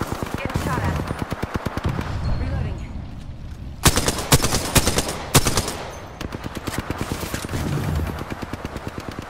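Automatic weapon fire in the Apex Legends battle royale game, rapid bursts of shots, near and loud, with a pause and heavier blasts midway, then steady fire resuming.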